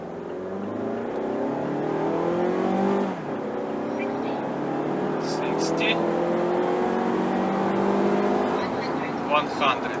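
A Mazda 3 with a 2.5-litre engine accelerates hard from standstill to 100 km/h, heard from inside the cabin as a loud rising engine drone that climbs through gear changes, with a brief dip near the third second.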